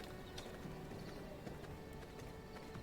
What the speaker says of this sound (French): Attends, je vais prendre un cheval.